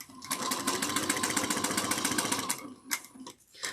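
A sewing machine back stitches a bag lining at a 3/8-inch seam, giving a fast, even mechanical chatter for over two seconds, then stopping and restarting in short bursts.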